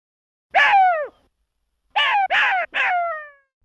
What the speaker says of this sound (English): Jackal